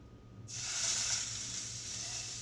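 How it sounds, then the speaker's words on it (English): Meat for rouladen searing in a hot pan, a loud steady sizzle that bursts in after half a second of quiet and holds evenly to the end, with no talk. "then we're gonna start searing our meat"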